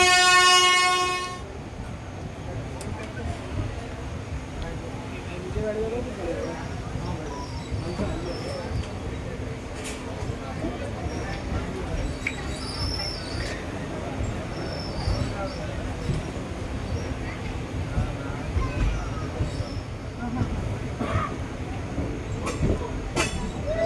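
A passenger train on the Madurai to Rameswaram line slows and pulls through Mandapam station on a single-track section, a loud horn blast at the start giving way to a steady low rumble of wagons rolling on.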